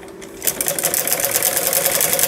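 A sewing machine runs steadily and close by, stitching a seam on folded fabric for piping on a designer sleeve, with a fast, even mechanical chatter and no talking.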